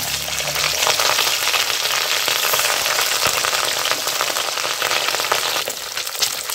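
Katla fish pieces fry in hot oil in a wok, giving a loud, dense, continuous sizzle with crackling spatter throughout, close up and without any voices.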